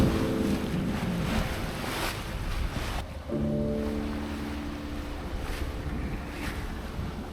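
A sailing boat on an overnight passage at sea, with steady wind rushing across the microphone and waves washing against the hull, plus a few brief tonal hums.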